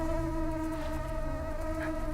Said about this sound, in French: Vous entendez ces bourdonnements?